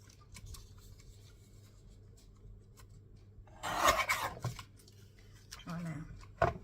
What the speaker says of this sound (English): trying to trim it to fit